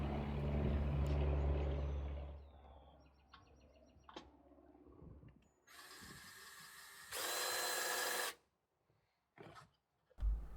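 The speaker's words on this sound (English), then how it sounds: "put a hole through your perfectly good front runner cross slat" A power drill revs in short bursts among clunks and rattles, then bores loudly through a Front Runner roof rack cross slat for about a second before stopping, followed by a few knocks.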